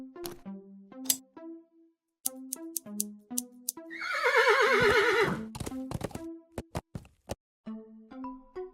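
A horse in the video game Willy Morgan and the Curse of Bone Town lets out one clear, drawn-out whinny midway, set among sparse plucked game tones and soft clip-clop-like taps.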